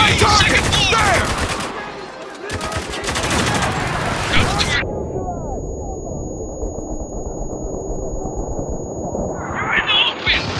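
Rapid bursts of rifle and automatic gunfire crackle in a Spec Ops: The Line firefight, loud and close, stopping abruptly midway before shots return near the end, with shouted voices over the battle.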